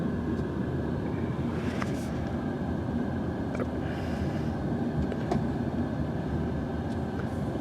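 A freight train with boxcars rolling past, a steady continuous low rumble with faint metallic squeals and clanks on top, constant in level throughout.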